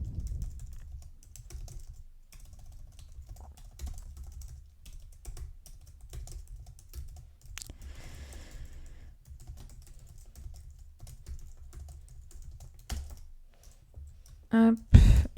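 Someone types a quick note on a computer keyboard: soft, irregular key clicks run steadily throughout, ending with a couple of louder knocks.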